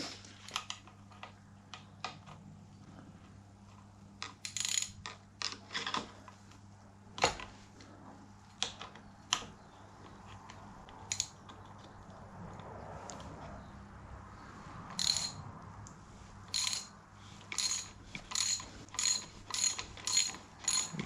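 A socket wrench ratchets on a Virago 250 motorcycle, giving quiet bursts of fine clicking strokes with pauses between them, close by in a fairly still workshop.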